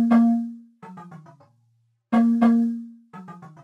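Second log drum pattern of a song, a tuned log drum playing resonant booming notes followed by quicker, lighter taps, repeating in a syncopated two-phrase groove, isolated and fairly loud.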